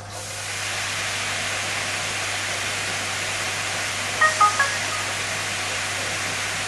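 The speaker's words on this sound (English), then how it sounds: "The air stones have now submerged and the air pump has automatically come on" An air pump runs with air stones submerged in a hydroponic bucket, producing a steady, even hiss of bubbling air under a faint low hum, with a couple of small bumps late on.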